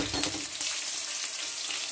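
Cinnamon, fennel seeds and cloves sizzle as they drop into hot oil for a chicken curry, a steady, close crackling fry with a faint stirring scrape, no voices.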